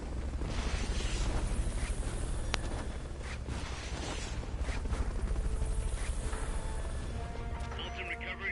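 Steady rotor drone of the Fulton recovery helicopter in the stealth game Metal Gear Solid: Peace Walker, loud and continuous throughout, with a few thuds and chimes on top.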